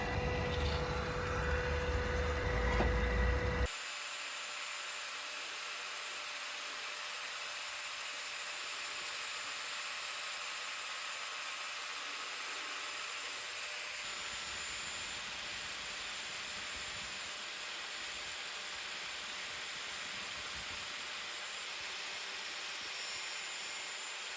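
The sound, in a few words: angle grinder dressing a Tormek waterstone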